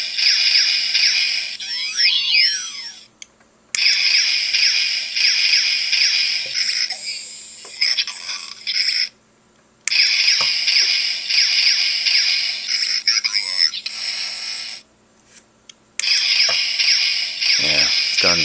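A Transformers Battle Ops Bumblebee toy robot plays a series of whirring, buzzing electronic sound effects in several bursts separated by short silences, with warbling pitch sweeps in some bursts.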